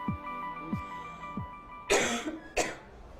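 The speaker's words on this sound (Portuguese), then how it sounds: "Começou a tossir depois que a gente botou a luva." A woman coughs during a latex glove allergy test, with several short, dry coughs spread across the moment, followed by two louder, harsher bursts near the end.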